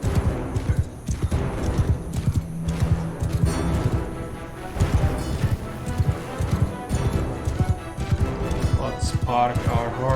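Hoofbeats of a horse galloping in the video game Mount & Blade Bannerlord near a siege, a steady clip-clop rhythm running throughout alongside game sounds and someone talking over it.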